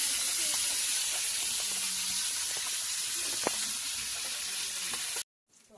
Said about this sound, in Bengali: এই দেখো মাছগুলো সুন্দর করে ভেজে নিচ্ছে।